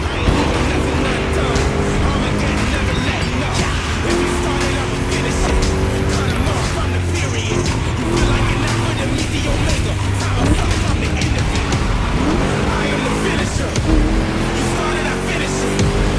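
A car in The Crew Motorfest drives laps with a loud, continuous engine drone that rises and falls through gear changes, under someone talking throughout.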